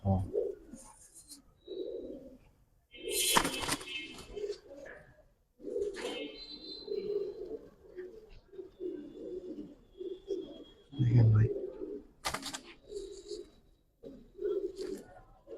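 Giribaz pigeons coo in soft, repeated low phrases close by, alongside a few sharp bursts and a brief louder knock, with no one speaking over them.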